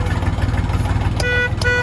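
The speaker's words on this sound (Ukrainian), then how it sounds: "Сигнал на кермі." The horn of a Horst L244XU tractor sounds in two short toots near the end, close and loud over a steady low engine idle.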